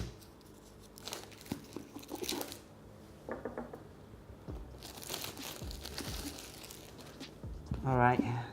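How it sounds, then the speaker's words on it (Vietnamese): Paper wrapping around a two-volume book set is torn and crinkled open in several rough, crackling bursts close by, while a person talks in between. "Và bây giờ mình sẽ xé cái này ra cho các bạn xem."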